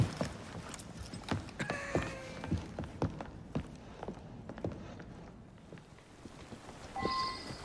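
Hooves of a carriage horse clip-clop in a steady walking rhythm on a street in the Assassin's Creed Syndicate game, fairly quiet, with faint mechanical rattles and a short chime near the end.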